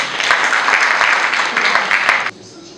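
Loud audience applause at a Senegalese real-estate industry event, steady clapping for a couple of seconds that cuts off abruptly.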